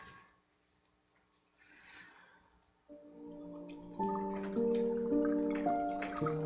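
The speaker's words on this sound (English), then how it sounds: "We hear a little bit of water in the background" Faint dripping and trickling water sounds softly in the background of a quiet meditation session, with sparse drips early on before gentle sustained tonal music rises and continues over it.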